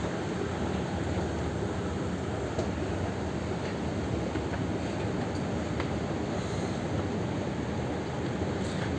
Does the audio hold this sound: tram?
yes